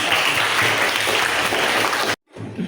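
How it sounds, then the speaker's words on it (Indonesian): A classroom group claps for a presenting group at an Islamic religious education lesson, a dense, steady wash of applause that cuts off abruptly, followed by a brief quieter stretch. "Oke, tepuk tangan untuk kelompok."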